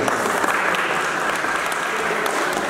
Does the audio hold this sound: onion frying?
no